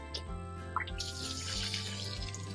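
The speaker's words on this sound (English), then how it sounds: "Now when you disconnect this, water is going to squirt all over." Water squirting and spattering from a disconnected quick-connect fitting on a flimsy zero-G garden hose at an RV, a close hiss of spray with splashing drips throughout.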